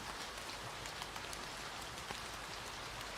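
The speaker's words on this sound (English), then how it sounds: "Just imagine it's raining behind me" A rain ambience track plays steadily behind a streamer, a dense, even hiss of falling rain with scattered drop patters and no talking, holding a constant level throughout.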